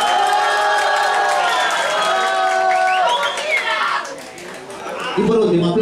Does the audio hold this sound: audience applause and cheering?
yes